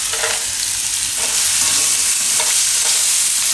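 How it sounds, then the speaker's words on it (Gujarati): Cashews and garlic roast in a hot pan for a Gujarati tomato paneer dish, giving a steady bright sizzle broken by a few short scraping stirs, close and alone without speech. "આ બધું થોડીક વાર શેકી લેવું."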